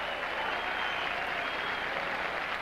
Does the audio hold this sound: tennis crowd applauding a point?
yes